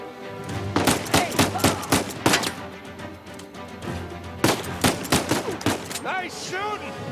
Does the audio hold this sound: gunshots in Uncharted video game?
yes